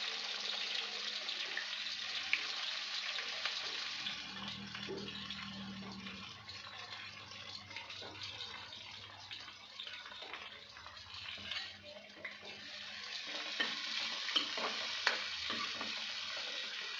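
Onions frying in hot oil for a potato poppy-seed dish, a steady close sizzle running throughout with occasional stirring scrapes and a low hum in the background.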